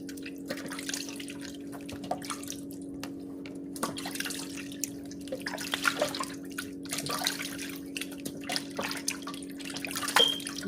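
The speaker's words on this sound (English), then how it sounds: "Rinse the meat off in fresh water and so get rid of all the vinegar." Raw chicken rinsed in fresh water from a tap after a vinegar soak, a steady quiet trickle and patter of running water with scattered drips throughout, alone with no talk.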